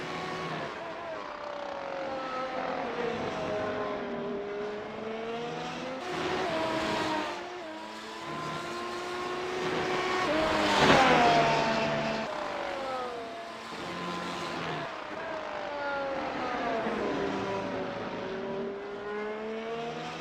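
Supercars race cars screaming past on a Sydney circuit, engines rising and falling in pitch as they accelerate and pass, loud and continuous with a commentator talking over them.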